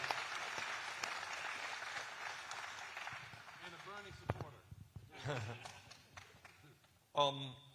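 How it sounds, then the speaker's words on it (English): A crowd applauds steadily for a few seconds at a political campaign event, then the clapping fades out as voices start talking. "Let's give him a big round of applause, ladies and gentlemen."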